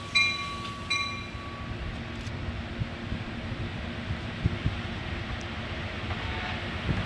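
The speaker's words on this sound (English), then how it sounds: "Train approaching. Please remain behind yellow line." Train approaching a station platform in Connecticut: a low, steady rumble of rolling cars builds with mechanical clatter, preceded by brief high tones at the start and a few faint knocks, with no talking.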